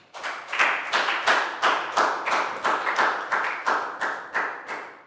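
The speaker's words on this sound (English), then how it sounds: "big round of applause for Prel" A primary-school class claps in unison for a classmate, about a dozen sharp, evenly spaced claps in a steady rhythm, close and loud with no talking.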